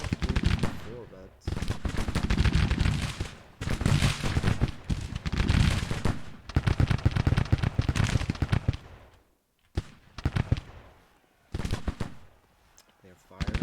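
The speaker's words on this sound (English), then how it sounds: "They're firing." Musket and rifle volleys from Civil War troops in Grand Tactician crackle in repeated bursts, with a brief lull near the end, while someone talks over much of the firing.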